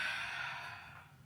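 A single long, deep exhale during yoga breathing, a soft breathy rush that slowly fades over about a second, close and alone.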